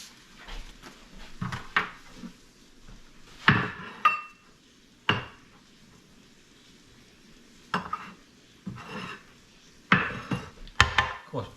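Burnt oil being scraped and wiped off a metal pancake griddle: short, rasping scrapes in irregular bursts with quiet gaps between them, close and fairly loud, with no talking.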